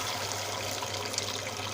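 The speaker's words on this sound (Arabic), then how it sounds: "انزل بالميه السخنه بتاعتي" Hot water poured into a cooking pot for seafood soup, a steady continuous pouring rush with no talking.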